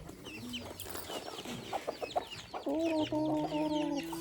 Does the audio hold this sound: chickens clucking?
yes